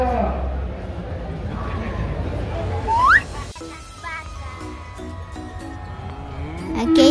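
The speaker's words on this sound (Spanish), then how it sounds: "Aquí hay vacas y toros para vender a los ranchos." Cows and bulls for sale to ranches, penned in the livestock section of a fair, low mooing heard under steady crowd chatter, with a rising whistle-like call midway.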